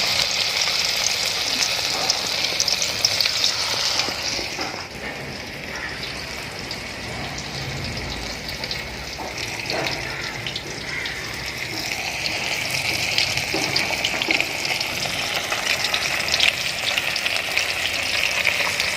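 Anchovies for nethili fish 65 frying in hot oil, a steady loud hiss and crackle that fills the whole stretch without talk, swelling slightly in places.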